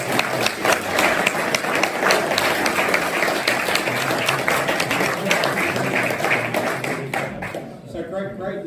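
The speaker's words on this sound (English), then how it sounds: "Let's give a big round of applause" Sustained applause from a crowd at a public meeting, dense clapping that holds steady for several seconds before thinning out at the end.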